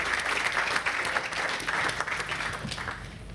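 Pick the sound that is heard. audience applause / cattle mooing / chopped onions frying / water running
audience applause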